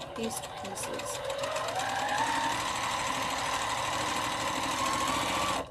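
Sewing machine stitching pieced quilt blocks, with a steady close whirring drone and rapid needle chatter running throughout, starting with a few quick bursts, while someone talks over it.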